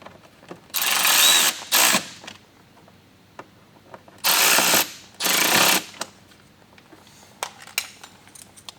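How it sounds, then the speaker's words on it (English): Close bursts of a power driver whirring as Phillips head screws are snugged down on rally-style mud flaps being fitted to a 2022 Rivian R1T, two runs of about a second each with quiet clicks and handling noises between. "So we're going to start with our Phillips head screws. Getting those nice and snug."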